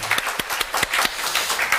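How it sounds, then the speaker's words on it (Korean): A Korean church congregation gives applause during a worship service, with brisk, close clapping from many hands and distinct sharp claps in an irregular rhythm, brief and lively. "하나님께 찬양, 영광의 박수 올려드리겠습니다."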